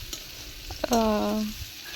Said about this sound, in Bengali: আলু ভাজা করছো কেন